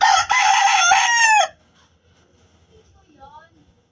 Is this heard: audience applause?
no